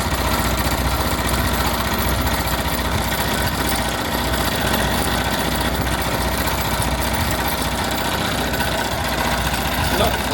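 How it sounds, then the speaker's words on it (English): An embroidery machine stitching out a design runs with a steady, dense mechanical drone and rapid rhythmic vibration throughout, loud and close, with no pauses. "Not profound, just stitching out the design."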